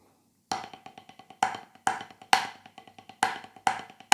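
A paradiddle rudiment on a drum kit: fast sticking with strong accented hits landing at a steady pulse between quicker, softer strokes, played alone and close up.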